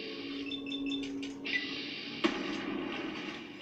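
Fallout 3 gunshot landing a headshot: one sharp, loud crack partway through over steady game ambience and faint background tones.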